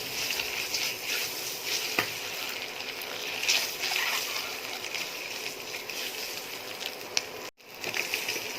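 Boiled eggs frying in hot oil in a pan, sprinkled with salt and turmeric, give a steady crackling sizzle with scattered pops and occasional stirring clicks, close and moderately loud.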